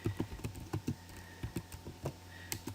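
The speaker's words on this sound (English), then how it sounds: "Then the postcode would be typed in" A postcode being typed on a computer keyboard, a quick burst of close, crisp key clicks in an uneven rhythm over a few seconds.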